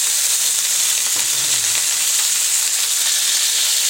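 Hamburger patties sear in hot grease in a pan, giving a steady, close, bright sizzle and crackle that runs unbroken throughout with no voices.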